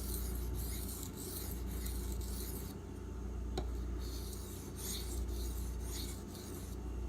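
A D2 steel knife blade rasps across an aluminum oxide whetstone in steady back-and-forth strokes, close and even, with brief pauses between passes.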